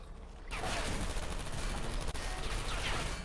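Turrets in the Portal 2 video game fire in a dense, continuous rattling burst after a brief quiet start, sustained and loud for about three seconds with a short dip near the middle.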